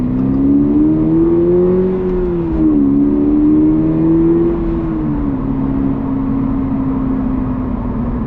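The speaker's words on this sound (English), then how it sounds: "up to speed is when you'll really hear the engine noise" A Toyota GR86 accelerating with its artificial engine sound piped into the cabin, a steady loud droning hum whose pitch rises and dips slightly through gear changes, heard from inside the car with no talking.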